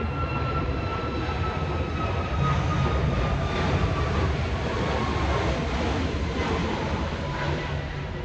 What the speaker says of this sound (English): check this out because a plane is passing